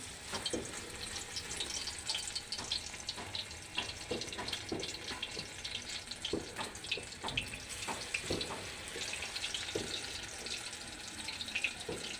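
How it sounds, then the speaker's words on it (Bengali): Small lentil fritters slipped into hot oil crackle and bubble softly at close range, a steady faint sizzle with scattered pops and no talking. "তেতে গেছে, ওর মধ্যে দুটো বড়া ছেড়ে দিচ্ছি।"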